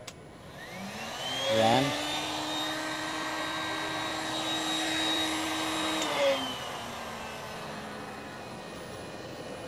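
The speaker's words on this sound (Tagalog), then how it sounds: "Umaandar na yung ating heat gun." An electric heat gun starts up with a rising whine, runs as a steady loud blowing roar for several seconds, then winds down, with a brief word spoken near the start.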